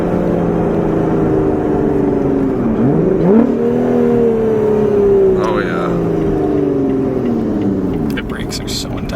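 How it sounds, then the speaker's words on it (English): Lotus Evora sports car engine and intake induction rising and falling as it drives and downshifts, a steady loud drone close by, with people talking over it. "you get great induction noises here too"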